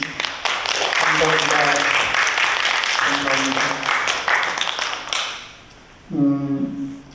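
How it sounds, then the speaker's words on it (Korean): Congregation applause fills a church hall in a steady, broad wash of clapping lasting several seconds, while someone speaks briefly over it before the clapping tapers off. "우리 응원의 박수 함께 드리겠습니다."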